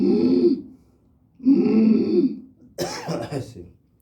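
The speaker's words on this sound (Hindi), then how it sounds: "ऐसे शुरू में आपको इससे खांसी आएगी।" Rough coughs and throat-clearing during an ujjayi pranayama breathing exercise: two raspy breathy bursts, then a sharper cough-like burst, each close and fairly loud with short pauses between.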